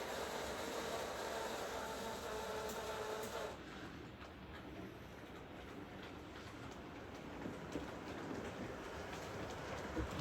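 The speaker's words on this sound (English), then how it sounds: "Let's run a train through there and see what happens." A model train runs along its track with a continuous whirring rattle and light clicking, fairly quiet and steady throughout.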